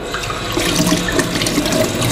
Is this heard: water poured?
yes